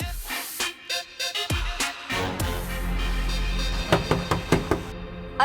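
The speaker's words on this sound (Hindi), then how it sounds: "अरविंद दरवाजा खोलो।" Knocking on a house door in a Hindi web-series scene: clusters of sharp raps come loud and close over steady tonal music, with a fast run of knocks near the end.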